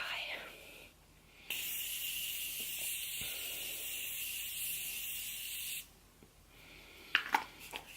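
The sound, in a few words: continuous setting spray misting onto face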